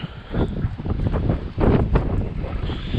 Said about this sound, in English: Don't mind the wind, folks. It's supposed to be deadly windy today.